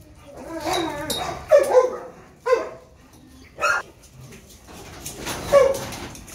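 Adult dogs and puppies indoors, high whimpers, yips and short whiny barks come in separate bursts with quiet gaps between them, at moderate loudness.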